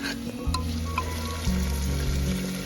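Steady, loud sizzling of peas and spices frying in a hot pan for a tadka, a continuous crackling hiss throughout with a low hum underneath and no voices, outdoors on a riverbank.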